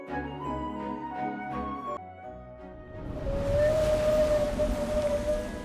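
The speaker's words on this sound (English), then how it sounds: "I can't believe whales could jump that high." In-game whale in Ragnarok M Eternal leaping, heard as a long, rising tonal call that swells loud over a broad watery wash, following a quieter musical passage with no talk.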